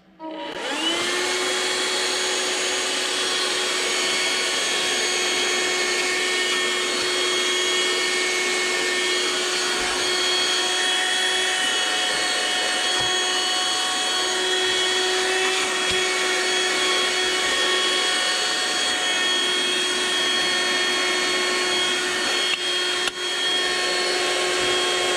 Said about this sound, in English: This is also a Dremel tool with low and high speed, and obviously I ran it in a low speed